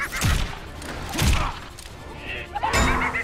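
Heavy thuds and smashing impacts from the Injustice: Gods Among Us video game, including a pie splatting into a face, come as three loud, separate hits spaced about a second apart, with no talk over them.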